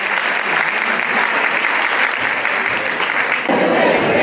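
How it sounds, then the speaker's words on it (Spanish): An audience at a rabbi's talk breaks into steady, close applause that fills the room throughout, swelling slightly toward the end, with faint voices beneath. "Un aplauso, por favor."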